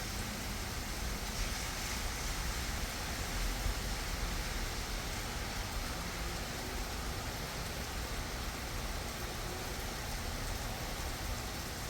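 Steady rain falls outdoors on an April afternoon as a dense, continuous hiss that holds even throughout, loud and close with no voices over it.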